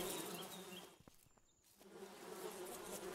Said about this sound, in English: Why do I hear bees? Bees?